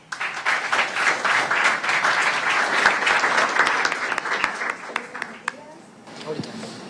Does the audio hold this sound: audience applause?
yes